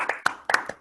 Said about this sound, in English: So unmute yourselves, please, everyone, and just like clap for Arjun.